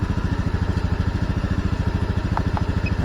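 A Honda automatic scooter idles with an even, rapid low putter that holds steady and close throughout, with no talking and no change in speed.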